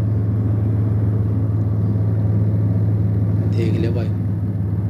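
A new tractor runs a straw reaper machine in a field with a steady, loud low-pitched engine drone throughout. A brief faint voice-like sound rises over it near the end.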